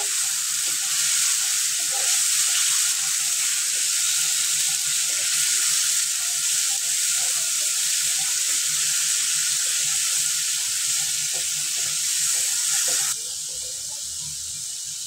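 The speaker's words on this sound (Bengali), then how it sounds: "দিয়ে আমি এটা কষিয়ে নেব এভাবে" Minced chicken frying with chui jhal in a pan for a Bengali chicken kosha, a steady loud hiss and crackle of sizzling oil that runs unbroken and drops slightly in level near the end.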